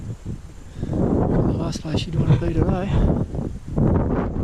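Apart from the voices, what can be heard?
wind blowing against the microphone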